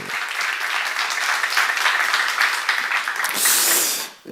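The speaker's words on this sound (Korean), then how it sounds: "믿는 사람만 박수 치세요." A church congregation claps together in a sustained burst of dense, loud applause that swells briefly near the end before cutting off.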